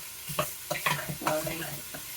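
Ground beef and breakfast sausage patties, still partly frozen, brown in a pan, a soft sizzle beneath several close scrapes and clatters of a spatula.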